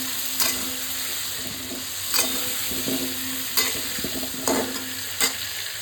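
Potatoes and papaya frying lightly with turmeric and salt in a pan: a steady low sizzle with about five sharp spatula scrapes and knocks at irregular intervals, close and fairly quiet, with no talking.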